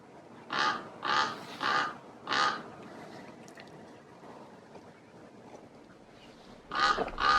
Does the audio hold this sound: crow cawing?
yes